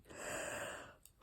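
A single person's yawn, a faint, drawn-out breathy exhale lasting about a second and ending with a small catch, heard close and alone.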